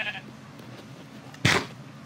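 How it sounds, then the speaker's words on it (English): Sheep in a Minecraft survival game give a single loud, short bleat near the end, standing out clearly over faint background noise. "Okay, time to feed the sheep."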